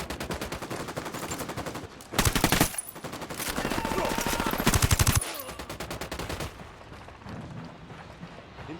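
Automatic weapons fire in Ghost Recon Wildlands, loud rapid bursts of machine-gun fire with heavy rattling volleys around the middle, then a quieter tail with faint voices.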